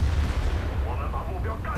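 A tank gun booms in World of Tanks with a heavy, rumbling shot that rolls and fades over the clip, ending in a sharper crack at the close.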